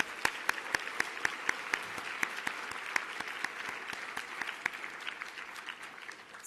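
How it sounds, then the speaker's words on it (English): Audience applause for awardees at an academic awards luncheon, a full room clapping steadily for several seconds with a few sharp individual claps standing out, then slowly thinning toward the end. "Let's give all those awardees another round of applause."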